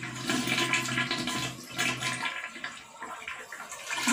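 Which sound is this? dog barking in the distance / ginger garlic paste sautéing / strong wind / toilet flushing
toilet flushing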